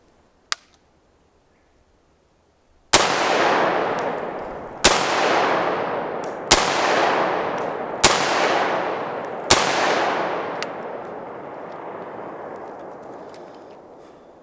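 Semi-automatic PTR-91 rifle fired with its muzzle brake removed and a heavy buffer fitted: one faint snap, then five loud, sharp reports at roughly two-second intervals, each trailing into a long rolling echo.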